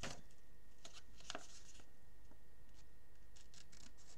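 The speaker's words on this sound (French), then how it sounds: "Je coupe mes angles, mes petits carrés qui ont été formés par mes plis." Scissors snipping corners of folded paper for a handmade album, a few soft, close cuts and rustles scattered across a quiet background, with no talking.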